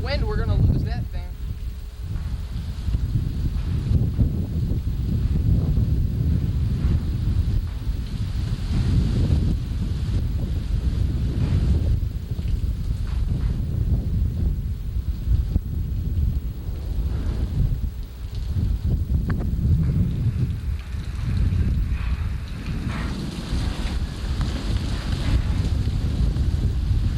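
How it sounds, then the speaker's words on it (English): Strong wind gusts during a June thunderstorm roar continuously into the microphone, a loud buffeting rumble that swells and eases in waves with no break. "this is the only way you can hear me because the wind's blocking me out"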